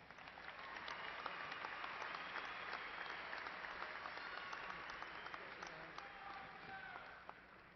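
Graduation audience at a university fall commencement giving a round of applause, a broad, even wash of clapping from a large crowd that swells and slowly tapers, heard at some distance and fairly quiet.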